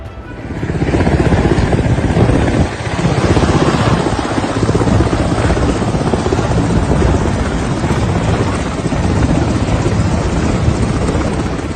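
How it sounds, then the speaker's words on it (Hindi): A helicopter in Panjshir, Afghanistan, its rotor thudding loud and close in a continuous heavy roar with wind-like rushing, steady for over ten seconds with no voices. "उपराष्ट्रपति अमरुल्लाह सालेह और अहमद शाह मसूद के बेटे अहमद मसूद दोनों को पंजशीर में हेलीकॉप्टर पर सवार होते देखा गया है।"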